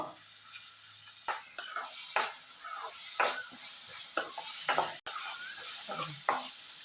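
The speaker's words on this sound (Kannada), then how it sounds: "ನೀರುಳ್ಳಿ ಚೆನ್ನಾಗಿ ಫ್ರೈ ಆಗಲಿ" Sliced onions and curry leaves fry in a pan, giving a steady sizzle broken by repeated scraping stirs that come in regular strokes, with a sharp knock of the utensil midway.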